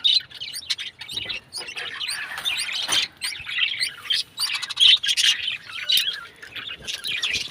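A pair of yellow pet birds in a home bird colony chirping, rapid bright tweets and short squawks in quick overlapping bursts, close by, with no talking.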